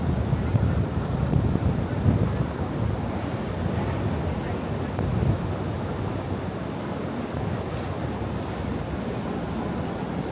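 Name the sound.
strong wind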